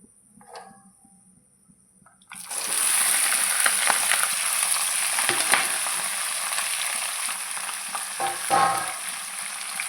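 Jackfruit seeds, yardlong beans, potato and cauliflower stalks drop into hot oil with five-spice and bay leaves, setting off a sudden loud, steady sizzle that carries on with stirring scrapes.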